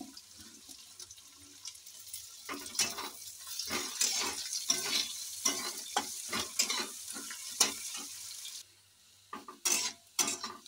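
Chopped garlic and ginger fry with onions in a pan, a low sizzle broken by repeated scraping stir strokes in an irregular rhythm, fairly quiet, with a short lull near the end.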